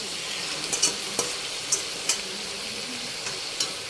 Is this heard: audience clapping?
no